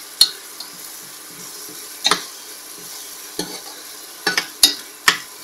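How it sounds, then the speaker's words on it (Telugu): Garlic and green chilli paste with garam masala fries in a pan for aloo bath, a soft steady sizzle broken by several sharp scrapes and taps of the spoon as it is stirred. "ఇది కూడా పచ్చివాసన పోయే వరకు వేయించాలి"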